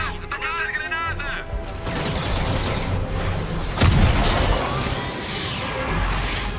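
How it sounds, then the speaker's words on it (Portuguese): A grenade detonates in Marvel's Spider-Man as a single loud, deep boom about midway, amid busy combat noise with voices talking over the action. "Detonar granada!"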